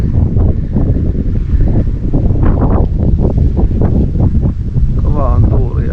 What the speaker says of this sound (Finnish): Kova on tuuli ja kova on virtaus